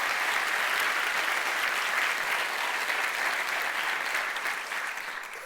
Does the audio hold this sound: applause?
yes